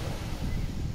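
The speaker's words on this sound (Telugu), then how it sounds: "అలల శబ్దం వినిపిస్తుంది" Steady sea waves washing near a beach lined with coconut trees at sunrise, a continuous low rushing surf blended with soft wind noise, fairly even in level with no voices.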